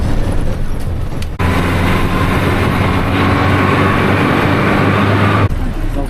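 A local bus ride in Lima: loud, continuous engine rumble and road noise with everything in the cabin rattling, close and steady, with a brief quieter moment at the start and end.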